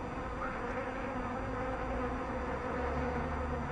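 Honeybees buzz around a beekeeper working beside an anti-hornet net tent at an apiary, making a continuous close drone of many wings that stays even and fairly quiet throughout.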